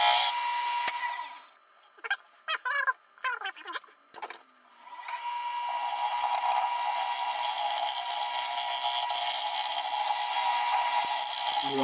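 A power drill whirs briefly, then after a few scattered knocks and rattles settles into a long, steady sanding hum against a wooden natural-edge bowl.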